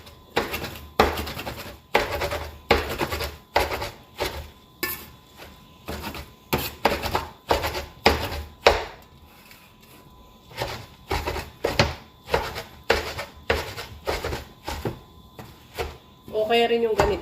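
A knife chops food on a cutting board in quick, rhythmic runs of sharp thuds. The chopping is close and loud and comes in steady bursts, with a short pause partway through.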